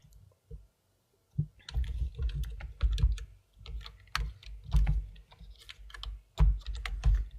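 Typing on a computer keyboard, with bursts of clicking keystrokes in irregular rhythm, close and fairly loud, with short pauses between flurries and no talk.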